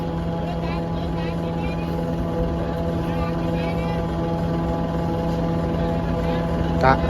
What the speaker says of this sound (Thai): ต้องเอารถไถมาลากลูกออกมาเนาะพี่น้อง